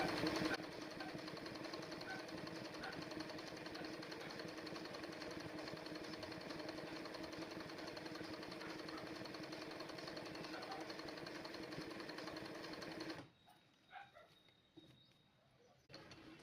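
An embroidery sewing machine stitching a lotus design in zari thread, a fast, steady mechanical whirring hum that runs loud and unbroken, then stops near the end, leaving a few faint clicks and knocks.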